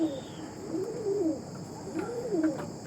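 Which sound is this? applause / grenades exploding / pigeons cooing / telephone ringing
pigeons cooing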